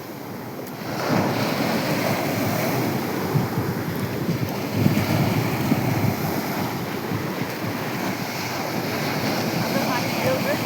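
Waves roll in and break on a shore, a loud continuous roar and wash rising after the first second, with heavy wind buffeting the microphone.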